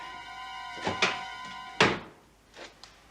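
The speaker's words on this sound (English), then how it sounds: "Close the door. Close the door." A door is pushed shut: several wooden thunks and knocks, the loudest near the middle and fainter ones after, with a steady tonal hum underneath.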